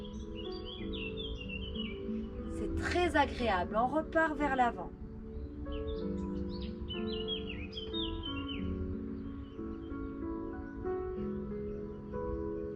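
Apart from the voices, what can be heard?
birds chirping around a house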